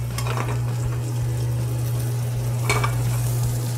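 Scallops with parsley, chive and tarragon are stirred in a hot pan on a restaurant stove, giving a close, steady sizzle with soft scraping strokes over a constant low hum.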